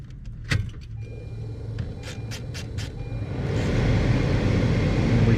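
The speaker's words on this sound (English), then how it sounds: "And let's turn the vehicle on." A 2015 Honda Civic starts up: a few clicks and a short mechanical whir, then the engine catches and settles into a steady, louder idle with the blower running, close by and with no talk.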